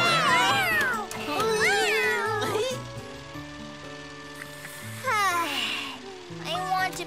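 Cartoon cat meowing repeatedly in a children's animated series about a little bus, bright sliding mews up front and again near the end, with background music and a child-like character's voice around them.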